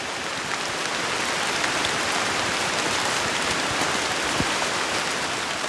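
Steady heavy rain falls in a rainforest, a dense continuous hiss of drops on leaves and ground, close and even throughout with no voices.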